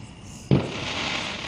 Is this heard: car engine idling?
no